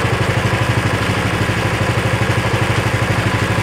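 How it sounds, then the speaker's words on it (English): Ariens Power Brush 36 snow brush engine running at steady idle, a low, even, rapid putter heard from about three feet away, continuous and moderately loud with no talking. "I told you guys, this is a super quiet motor"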